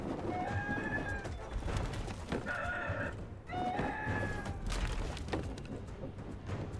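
A rooster in a video game crows and clucks repeatedly, loud and close, in several bursts over steady background game noise.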